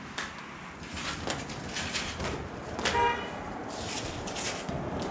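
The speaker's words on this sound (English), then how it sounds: "Honk at me." A brief car horn toot sounds around the middle, set against steady road traffic noise outdoors.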